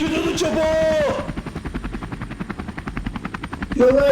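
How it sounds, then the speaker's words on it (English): Helicopter rotor chopping in rapid pulses, loud and close, under a shouting voice at the start and end. "Get to the chopper!"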